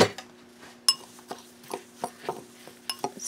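Satin dot sprinkles are stirred in a container, producing a series of close, sharp clicks and rattling ticks at an irregular rhythm over a faint steady hum.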